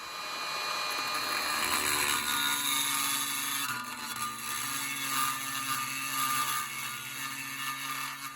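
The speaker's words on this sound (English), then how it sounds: "going around that residual inside with the die grinder to make a nice better fit" A die grinder whines steadily and close, smoothing residual metal inside the housing of a Cadet three-phase grinder under restoration, a high continuous tool scream with slight load shifts and no talk.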